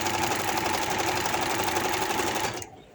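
A sewing machine stitches fabric for a maxi frock in a fast, even run of needle strokes, close and steady, then stops abruptly near the end.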